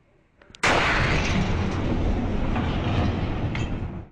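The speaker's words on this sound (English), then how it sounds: "Asteroid crash." An asteroid crash explosion: a sudden loud blast erupts after a quiet moment and rolls on as a sustained, dense, roaring rumble with crackling debris, fading only slightly toward the end.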